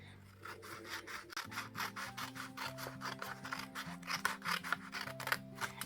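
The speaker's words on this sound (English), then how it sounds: "I'm just going to use my scissors because I find it's easiest, and I'm just going to cut straight up" Scissors cutting straight through designer series paper in a steady run of rapid rasping snips, close and crisp over soft background music, with no speech.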